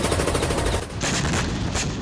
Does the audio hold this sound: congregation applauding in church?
no